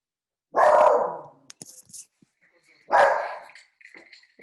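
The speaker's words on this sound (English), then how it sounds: "Sorry, my dog." A pet dog gives two loud, separate barks about two seconds apart indoors, with small clicks and faint movement noises in between.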